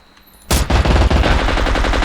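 Sudden burst of loud automatic gunfire in the video game Scum, rapid shots firing back to back after a quiet start and continuing without pause.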